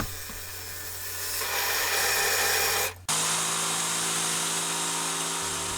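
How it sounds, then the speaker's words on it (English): A drill press whirs as a 40mm Forstner bit grinds steadily into wood, the cutting noise swelling, briefly cutting out, then continuing with a motor hum underneath. "I moved over to the drill press and using a 40mm Forstner bit, cut a hole out in the middle"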